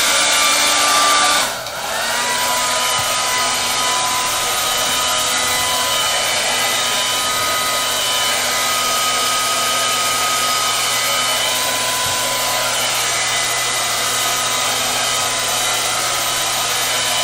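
A hair dryer blows steadily at close range for the whole stretch, a loud continuous whoosh with a faint hum beneath, briefly dipping at the start as it shifts position, no voices.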